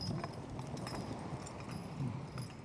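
Hooves of Norwegian Fjord horses clip-clop in a soft, irregular rhythm as they pull a sleigh, faint and fairly distant with a low background hush.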